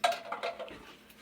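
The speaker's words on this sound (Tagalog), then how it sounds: "pagkatapos namin kumain, si Papa Raol ang maghuhugas ng pinggan." Dishes being washed after a home meal, with plates and cutlery clinking and clattering close by in a quick run of light knocks that fade over a second.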